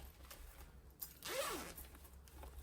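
A zipper runs along a small lined fabric project bag with double zips and two pulls, giving one clear rasping pull of about half a second, close and moderately loud, against quiet room tone.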